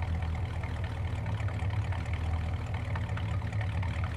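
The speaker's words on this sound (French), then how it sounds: "On coupe le moteur." A farm vehicle engine idles in Farming Simulator 19, a steady low rumble that runs continuously at an even level, with no talk over it.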